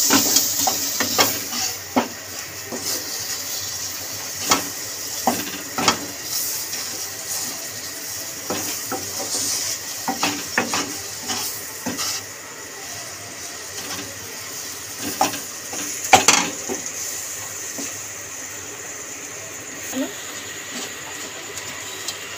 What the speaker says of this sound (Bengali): ময়দার সঙ্গে বাটারটাকে, এটাকে বলা হয় রু।